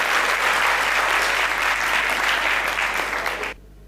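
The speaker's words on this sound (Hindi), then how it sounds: "जोरदार तालियों से आप स्वागत करें।" A seated audience at a Hindi poetry recital gives loud, sustained applause to welcome a poet, a thick wash of clapping that holds steady for about three and a half seconds and then stops abruptly.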